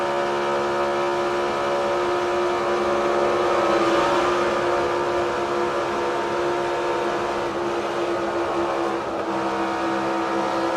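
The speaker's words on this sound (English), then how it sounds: "Listen to the throttle of Denny Hamlin." NASCAR race car at Talladega heard from in-car audio, engine droning loudly and steadily at high throttle with a sustained harmonic whine, slight dip near the end as the gas is released.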